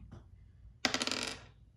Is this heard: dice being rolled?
yes